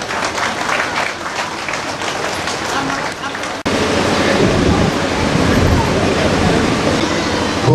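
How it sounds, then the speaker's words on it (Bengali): An audience at a welcome ceremony for guests claps in a broad, continuous wash, then grows louder and denser partway through as the crowd joins in. "আমরা ঘুরে আবার একটি করতালি দিই।"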